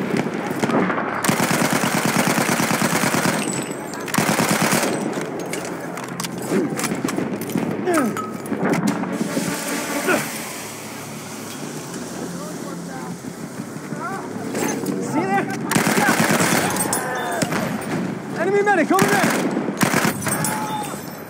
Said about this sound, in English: Machine gun right there!